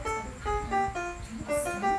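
A piano picks out a tune as a brisk sequence of separate bright notes, each struck cleanly and decaying, heard up close at moderate volume.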